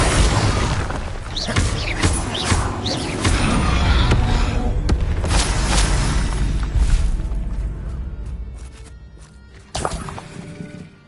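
Spell explosions from Confringo and Bombarda in Hogwarts Legacy, dense booms, crashes and shattering debris rolling loudly for several seconds, then thinning out with a final late impact.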